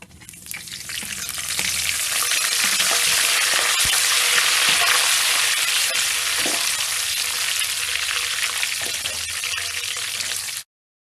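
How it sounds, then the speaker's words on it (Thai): Kaffir lime leaves fry in hot oil with a loud, steady sizzle and crackle throughout, along with occasional stirring clinks; no one speaks. "เจียวใบมะกรูดต่อเลยค่ะ"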